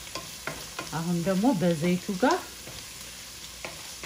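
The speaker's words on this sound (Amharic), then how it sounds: "በዘይቱ ጋር አብሬ ደግሞ ጥፍስ አደርገዋለሁ።" Ethiopian red lentil stew being stirred and fried in oil, with scraping stir clicks scattered through the clip and a steady cooking hiss beneath. A voice speaks briefly in the middle.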